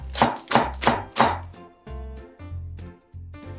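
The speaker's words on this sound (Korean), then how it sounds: "대파도 숭숭 썰어 줍니다." A knife chops green onion on a board, with four quick, crisp cuts in a steady rhythm followed by a few slower, softer thuds, close up and without any voices.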